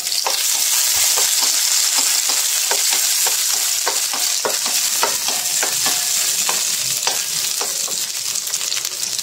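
Chopped tomatoes and onions sautéing in a pan for chicken binakol, a constant loud sizzle broken by repeated clacks of a spatula stirring.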